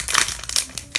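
Plastic wrapper of a Pokémon booster pack crinkling and crackling close up as it is handled for opening, in several bright bursts across a second with no talk.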